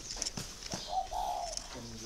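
A breeding pair of doves in a cage gives soft, low cooing, with a few short calls and steady background noise.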